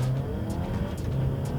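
Alfa Romeo Tonale plug-in hybrid accelerating hard in its most reactive dynamic mode on a straight road, a steady, loud engine and road roar filling the whole clip without pause, no talking.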